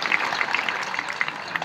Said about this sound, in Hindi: ऐसे भगवा शेर के लिए आकाश भर तालियां देकर उनका अभिवादन करते हैं